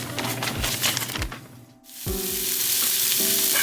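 Food sizzles and fries in a cast iron Dutch oven while a utensil stirs and scrapes the pot. A close, steady hiss runs throughout, broken by soft knocks and a short lull before the sizzling surges back louder.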